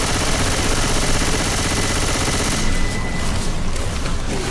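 Rapid gunshots from a zombie video game, fired at infected, form a dense, loud volley of continuous shooting with no talking.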